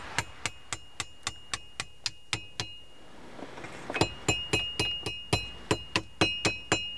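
A blacksmith hammers a nail hook on the anvil horn: a crisp, evenly spaced series of ringing metallic strikes, a short pause, then another rapid run of loud clanging blows, close and alone.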